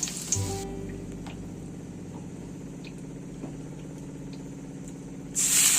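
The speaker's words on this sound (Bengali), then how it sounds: "তেলের মধ্যে শুকনো লঙ্কা ফোড়ন দিয়ে দিলাম" Dried red chillies frying in hot oil make a soft, continuous crackling sizzle that holds steady at moderate loudness throughout, with a sharper burst of hiss at the very end.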